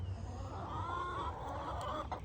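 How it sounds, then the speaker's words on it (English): A backyard chicken clucks softly and close by in a short run of low, throaty murmuring calls over a steady low hum. "Yes, you're my sweet chicken."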